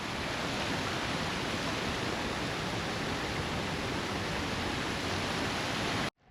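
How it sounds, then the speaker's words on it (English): A man-made waterfall heard from behind as a dense, constant rush of falling water, loud and close, that holds steady before cutting off abruptly at the end. "if you ever wanted to know what the backside of a man-made waterfall looks like,"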